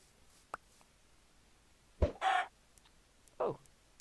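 Minecraft chickens cluck in short, separate bursts: a faint chirp, then a louder double cluck and a final squawk, spaced out over quiet, with no talking.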